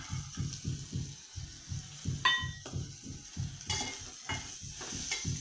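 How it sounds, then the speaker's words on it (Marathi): Peeled, washed pavta beans tipped into a pan of roasting masala and stirred, giving a steady rhythmic scraping with a soft sizzle and a couple of brief metallic clinks, fairly close, with no voices. "आता हा पावटा मी सोलून धुवून घेतलेला आहे, हा पावटा टाकते मी."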